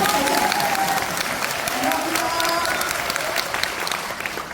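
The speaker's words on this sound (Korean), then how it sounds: "그래서 박수 치고" An audience at a national assembly policy forum on home-based long-term care applauds steadily for several seconds. The dense clapping fills the room, with faint voices underneath.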